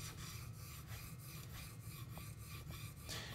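A hand plane blade is honed on a coarse sharpening stone in a continuous gritty rasping scrape, repeated in steady back-and-forth strokes close up.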